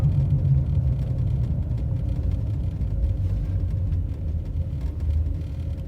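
Old truck, recently back from brake repairs, driving along a road: a steady low engine rumble and road hum from inside the cab, continuous and fairly loud, with no talk.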